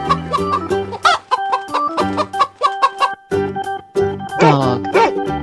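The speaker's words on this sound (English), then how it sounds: "chicken" Chicken clucking and squawking in a 3D animal video game, a quick run of loud repeated clucks over a musical game soundtrack, rising into a sharper cackle near the end.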